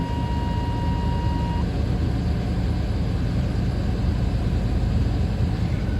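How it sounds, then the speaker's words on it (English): A 1992 Chevy Silverado K2500 pickup engine, noted as running a little noisy, idles with a steady, rough low rumble that stays constant and close throughout. "Lower motor is a little bit noisy right now, but it should quiet down in a sec"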